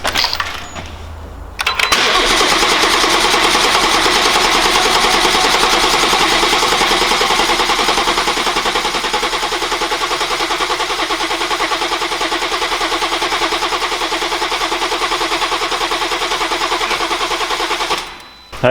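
A BMW B58 engine, freshly flash-tuned with its injectors reconnected, cranks briefly and catches, then settles into a loud, steady idle that holds for about sixteen seconds before cutting off abruptly near the end.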